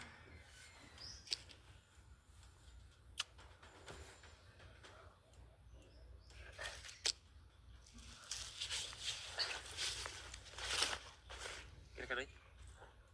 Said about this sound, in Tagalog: Nagparamdam na naman yung ibon.